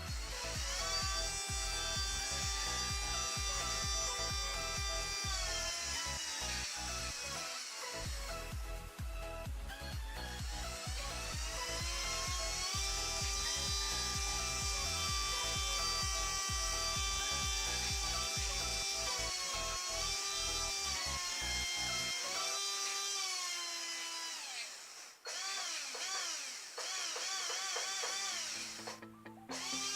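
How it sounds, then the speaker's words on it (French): An RC brushless motor runs on a 2S battery through a 320 A ESC, giving a loud, dense, high-pitched electric whine that shifts in pitch and briefly dips twice before running on. "c'était le bruit d'un moteur qui fonctionne au 2S"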